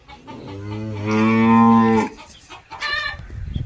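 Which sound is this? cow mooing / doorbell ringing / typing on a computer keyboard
cow mooing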